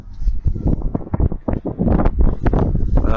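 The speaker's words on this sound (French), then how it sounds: "Pas mal de vent dehors." Wind gusting outside a manor at night, buffeting the microphone with irregular low rumbling thumps and rustling, close and fairly loud throughout.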